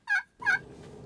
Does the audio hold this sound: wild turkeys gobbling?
yes